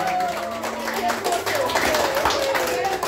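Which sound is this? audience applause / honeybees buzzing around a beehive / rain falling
audience applause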